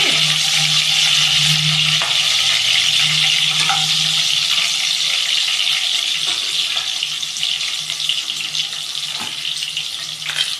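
Green chillies frying in a pan for vegetable fried rice give a loud, steady hiss and sizzle throughout, with faint clinks of a utensil stirring now and then.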